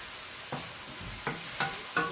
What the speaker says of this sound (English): we're gonna saute this one here.